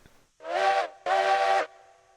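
Steam locomotive whistle in the Railroads Online video game sounds two loud, close blasts, each about half a second of shrill harmonic tone with steam hiss, separated by a short gap.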